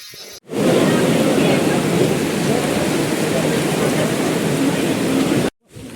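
Heavy rain pours steadily in a hill village, a loud, dense hiss that starts abruptly after a brief pause and runs unbroken for about five seconds before stopping suddenly.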